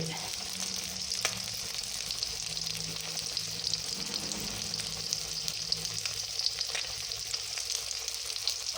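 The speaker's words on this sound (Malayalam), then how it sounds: "അതങ്ങനെ ഫ്രൈ ആയി വരുന്നുണ്ട്, നല്ല സ്മെല്ലാണ്." Vaala fish frying in a pan gives a steady, close sizzle with continuous bright crackle and occasional pops, heard on its own without talk.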